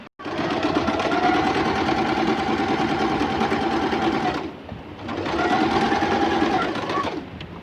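A Singer sewing machine fitted with a pintuck presser foot stitches pintucks in two loud, steady, close-up runs of rapid mechanical whirring, with a short pause between them.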